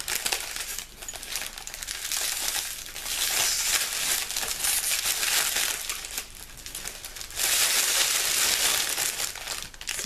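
Steady crinkling and rustling of paper being unwrapped, close and continuous, with louder bursts of tearing and crumpling.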